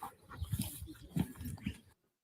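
A small dog with burnt paws on hot, shadeless ground gives a run of soft, uneven whimpers and snuffling sounds up close that stop abruptly near the end.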